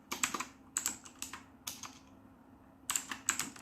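Close, crisp computer keyboard typing in quick bursts of clacking keys, separated by short pauses, with no voices.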